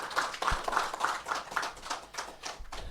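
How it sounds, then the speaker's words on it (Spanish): Sparse, quiet clapping from an audience after a talk at an afternoon session, with a few distinct hand claps in an uneven rhythm and no speech. "un fuerte aplauso para Elvira, por favor."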